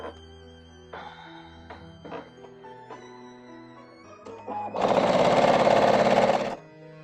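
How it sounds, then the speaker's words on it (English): A sewing machine stitches a quilt strip onto the tall side of a wonky Halloween house block, running in one loud continuous burst of about two seconds after quieter handling and clicks. "I'm going to sew it to the tall side first"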